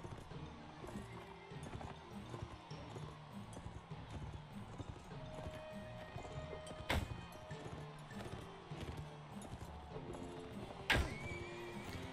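Horses in the medieval combat game Mount and Blade Warband clatter at a steady hoofbeat under battle din, with a loud neigh and sharp clashes near the middle and end.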